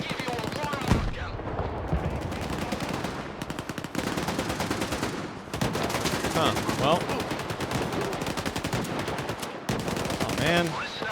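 Video game gunfire in bursts of rapid automatic fire and single shots, loud and dense across the whole stretch, with brief pauses and someone briefly speaking under it.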